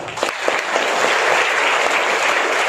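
A seated crowd of children and families at a school awards ceremony for Urdu-medium toppers claps steadily and densely, a loud continuous applause without speech.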